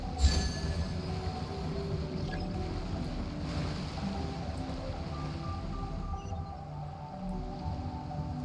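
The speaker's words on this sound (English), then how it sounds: "There's just random waves there." Ocean waves in a video game wash in as a steady, broad surf roar, fairly quiet and continuous, with faint game tones in the background.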